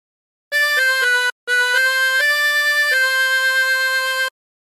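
Chromatic harmonica playing a short phrase, clear sustained reedy notes in a brief run, a short pause, then more notes ending on a long held tone, solo and close.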